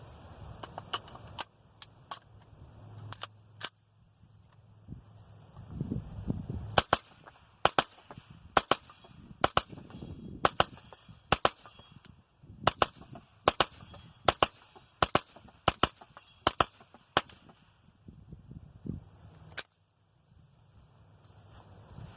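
Outdoor shooting of tracer rounds: a long series of sharp, loud shots fired singly and in quick pairs, some in rapid bursts, over steady wind noise and low rumble.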